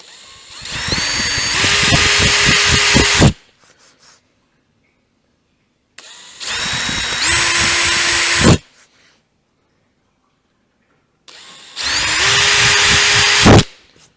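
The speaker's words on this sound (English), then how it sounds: "I can drill through the hole and mark the screen" A power drill bores holes through a GBS Zero Gen 2 roof cover in three loud, sustained bursts, each a few seconds long with the motor pitch rising, separated by clear pauses of silence.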